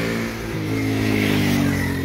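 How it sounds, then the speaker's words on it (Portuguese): A motorcycle riding the wrong way down a street near a beach parking area in Arraial do Cabo, its engine droning steadily and close, rising slightly in pitch as it passes. "O cara de moto contra a mão, é mole"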